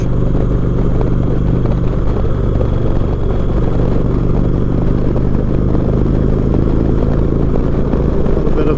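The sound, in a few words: motorcycle riding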